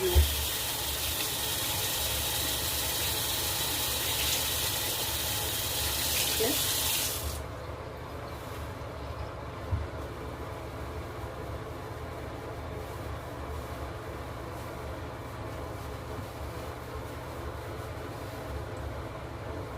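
Cold tap water runs steadily and loudly into a sink while a face is washed, then shuts off after about seven seconds, leaving a quiet room hum. A person speaks a single brief word.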